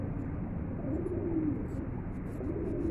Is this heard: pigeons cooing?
yes